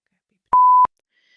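A single short, pure electronic beep, about a third of a second long, steady in pitch, with silence around it.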